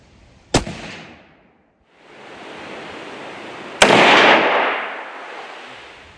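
Two loud, sharp cracks from a 30-30 rifle at an outdoor range, a few seconds apart, each followed by a long rolling echo that fades slowly.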